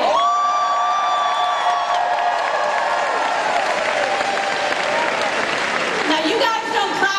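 A convention audience at a Democratic nomination event for Texas governor claps and cheers loudly throughout, a dense roar of applause with a voice speaking over it.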